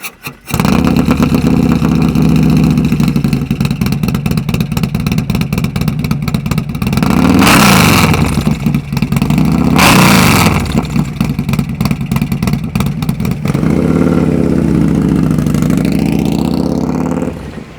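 Custom-built Harley-Davidson motorcycle with a 143 cubic inch Milwaukee-Eight engine roars loud and close for the whole stretch, a deep steady rumble with two sharp high revs in the middle and a lower run toward the end.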